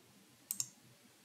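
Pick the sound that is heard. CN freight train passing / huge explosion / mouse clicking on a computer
mouse clicking on a computer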